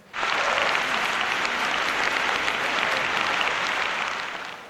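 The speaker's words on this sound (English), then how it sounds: "You can clap for the teacher." A school audience claps for a teacher at a debate event, a sudden dense burst of steady applause that holds evenly for several seconds before easing slightly at the end.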